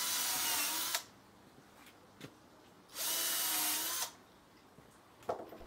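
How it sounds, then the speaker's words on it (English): A power drill pre-drills the ends of a recycled wooden fence paling board, whirring in two bursts of about a second each, separated by a quiet pause, with light handling clicks between them. "Pre-drill each end of the board."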